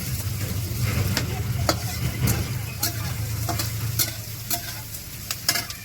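Sliced onions frying and being stirred in a very hot kadai for a rajma dish: a steady, close sizzle with repeated scraping and clinking strokes of a spoon against the metal wok.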